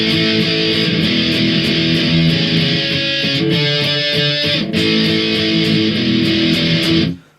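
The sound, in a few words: guitar playing a song chorus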